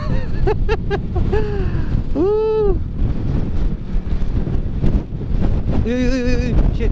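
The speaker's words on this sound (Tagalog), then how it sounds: "Pumapalo yung hangin mga ka-taker." Strong wind buffets the microphone during a motorcycle ride near Malico, San Nicolas, a constant loud roar with a rider's voice calling out briefly over it.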